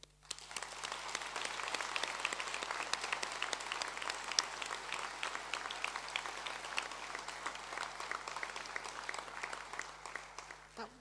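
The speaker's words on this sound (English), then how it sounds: "That wasn't the most rousing applause, I don't think." A graduation audience for aviation and security graduates applauding, dense steady clapping from a crowd heard at a moderate distance, sustained for about ten seconds, no speech over it.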